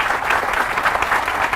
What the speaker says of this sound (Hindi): इस बात पे जोरदार तालियां होनी चाहिए हमारे